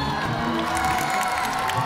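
An audience at a game show claps and cheers to vote for the best face painting, a brief burst of clapping mixed with shouts and whoops, loud and crowded throughout.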